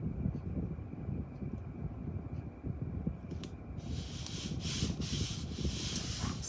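A spoon rubs a transfer onto a freshly painted board in quiet, repeated scraping strokes that continue steadily, growing slightly brighter partway through.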